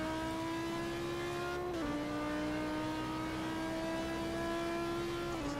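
Audi R8 V10 race car in a racing video game, a loud, sustained engine whine holding near-constant revs with two brief pitch drops like quick gear shifts, close and without talk.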